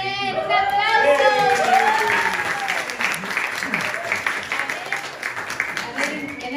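An audience at a slam poetry event applauds in a loud, sustained burst of clapping, mixed with cheers and excited voices near the start, then settles into steady clapping under crowd chatter.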